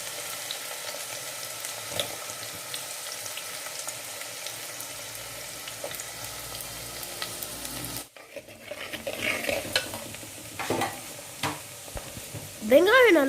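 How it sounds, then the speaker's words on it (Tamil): Onions sautéing in oil in a pan while an aubergine curry is being made, a soft sizzle with scraping and stirring that grows busier in the second half, ending with a few louder clatters. "வெங்காயம் நல்லா வதங்கிடுச்சு."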